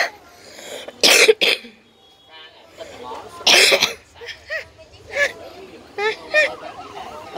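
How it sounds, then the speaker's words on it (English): A video game character gives a few harsh coughs and throat-clearing bursts, two loud clusters standing out among quieter vocal noises and faint talk. "I just heard a laugh and a cough."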